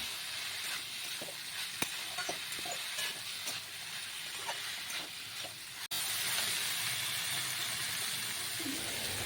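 Water is poured into a cooking pot of sizzling Gobindobhog rice. A steady loud hiss and sizzle continues throughout, with small clicks and stirring, then a steamier roar takes over partway through.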